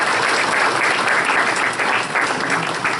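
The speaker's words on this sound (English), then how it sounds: "we need to give him a big round of applause for all he's done" Audience at a board of education meeting gives a retiree a steady, full round of applause, dense clapping throughout with no talk over it.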